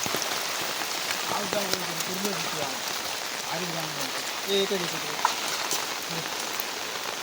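Steady rain falls at night beside a stream during a crab hunt, a dense even hiss of drops on surfaces, while faint voices murmur intermittently beneath it.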